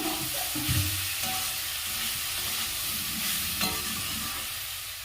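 Food frying in a pan is stirred and mixed after a spoonful of vinegar is added, giving a steady sizzle under scraping spoon strokes with a few louder clatters, and no voices.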